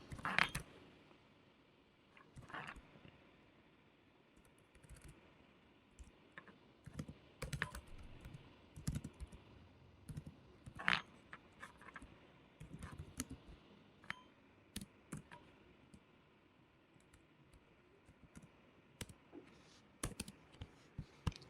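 Code is typed on a computer keyboard in quiet, irregular runs of close keystrokes and clicks that continue throughout, with brief pauses between bursts.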